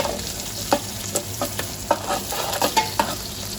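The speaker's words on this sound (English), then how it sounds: "Move that onion around so it doesn't burn." Onion frying in a pan is stirred around, a steady sizzle broken by a handful of sharp scrape-and-clack hits from the utensil against the pan, close and clear with no talking.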